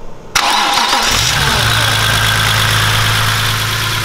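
A BMW S54 straight-six swapped into an E36 cranks briefly and fires up for the first time, catching loudly and settling into a steady, close idle.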